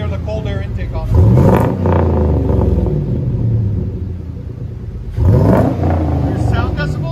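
A 2003 Chevy Silverado SS with a 6.0L V8, cold air intake and Magnaflow exhaust revs hard twice, each roaring burst rising then settling into a steady rumbling idle, close and loud, with people talking over it.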